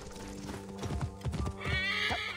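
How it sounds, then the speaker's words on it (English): A horse in the video game Assassin's Creed Origins clip-clops with a few heavy hoofbeats as it arrives, with a snort or whinny and faint ambient game music beneath. "Let's just call our horse"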